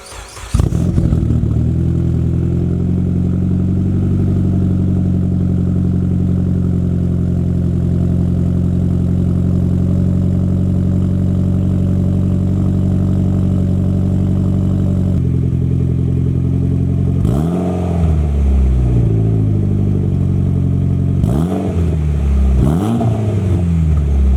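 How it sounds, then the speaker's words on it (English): Mitsubishi Evo X with a new turbo and single exit exhaust idles loudly and steadily for about fifteen seconds, then its tone drops before three sharp revs swell and fall back, close to the car and without talking. "check out the sound of the car"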